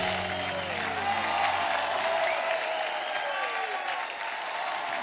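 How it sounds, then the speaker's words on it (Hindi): A studio audience on a TV comedy show, The Kapil Sharma Show, breaks into sustained applause: a dense, even wash of many hands clapping, fairly soft and steady, with a brief musical tone at the start. "दृश्यम की एक बार जोरदार तालियां हो जाए"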